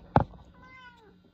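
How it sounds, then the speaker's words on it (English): A kitten gives one short, clear meow just after a brief thump, close by and alone with no talking. "My favorite cute kitty."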